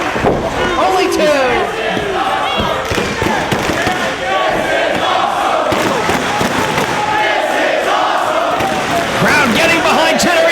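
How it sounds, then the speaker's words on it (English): A wrestling crowd roars and cheers during a match. The noise is loud and constant, thuds and shouts break through it, and an excited commentator talks over the whole stretch. "Crowd getting behind Generation Next."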